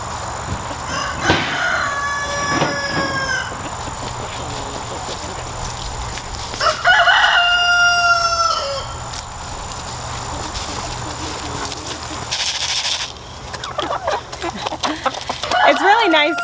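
Farm hens over eighteen months old cluck and a rooster crows several times in long, ringing calls against a steady background hum, with a person talking at moments.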